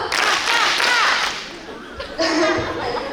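Students clap for the candidates at a school student council debate, a busy round of applause that briefly thins out and then swells again, with a few voices and chuckles mixed in.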